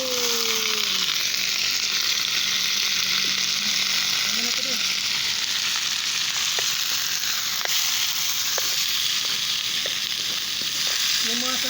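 Ingredients frying in a pan over a strong butane flame, a loud continuous crackling sizzle with occasional stirring clinks and scrapes throughout.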